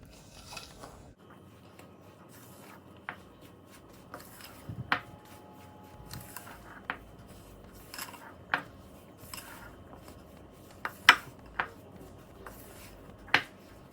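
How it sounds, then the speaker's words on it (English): Chocolate pistachio cookie dough being mixed in a bowl, with sparse, faint utensil clicks and taps against the bowl at irregular intervals over a quiet background. "Just going to mix it a little bit before I add the last bits."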